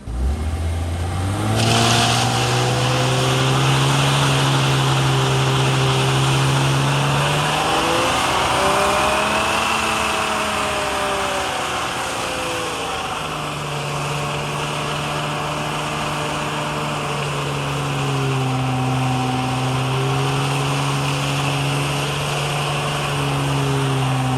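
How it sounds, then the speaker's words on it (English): A car engine holding loud, sustained high revs through a burnout, with the pitch dipping and climbing again mid-way, steady and close throughout. "on day 30, we're gonna do a 30-second burnout"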